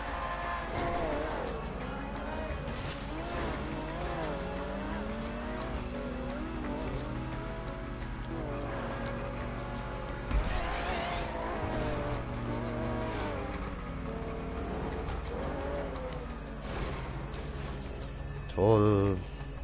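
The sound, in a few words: car engine driving in video game GTA 5 Online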